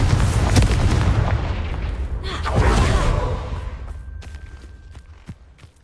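Confringo spell blast in Hogwarts Legacy, near a Thestral nest: a loud burst of fire-spell explosions with a second heavy boom midway, then the rumble dies away into quieter scattered cracks.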